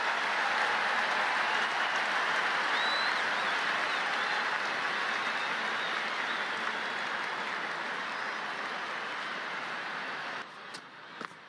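Steady broadband crowd applause fills a stadium in the Cricket 19 video game during an England vs Pakistan one-day international, continuous and loud before dropping away at the end.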